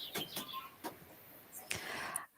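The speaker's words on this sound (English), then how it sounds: "Love that I can hear the chickens or something behind you, Neva." Chickens cluck intermittently in the background, a few short faint bursts scattered across the moment with low room noise between them.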